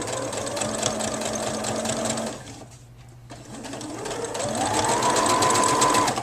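A sewing machine stitching quilted fashion fabric, its motor whirring at a steady pitch, dropping away into a brief pause and then ramping back up to a faster, higher run, close and fairly loud.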